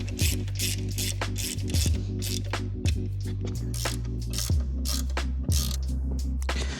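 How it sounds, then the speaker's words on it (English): Ratcheting clicks in quick repeated bursts as a rear suspension bolt on a Honda Rebel motorcycle is tightened by hand, the pawl chattering close and clear with steady rhythm and no talk. "We're just gonna tighten it down by hand basically, and we're gonna torque it afterwards"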